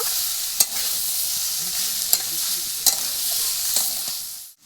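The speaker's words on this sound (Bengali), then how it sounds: "আলুটাকেও ডাটাটার সাথে ভালো করে মিশিয়ে নেব আর হালকা করে একটু ভেজে নেব" Potatoes frying with bottle gourd stems in a pan, a continuous bright sizzle broken by a few sharp spatula scrapes, close up and alone, cutting off abruptly at the end.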